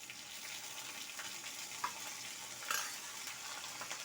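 Green chillies and curry leaves sizzle in hot oil in a pan during Gujarati cooking, a steady soft crackling hiss with a couple of sharper pops, fairly quiet and without talk.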